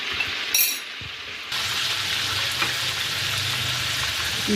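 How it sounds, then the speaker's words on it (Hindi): Garlic, ginger, onion and three green chilies drop into hot oil in a kadai, starting with a brief clatter and then settling into a steady, close sizzle and crackle. "कढ़ाई में डाला मैंने ऑयल और इसमें अब डालूँगी लहसुन, अदरक और प्याज और 3 हरी मिर्चें"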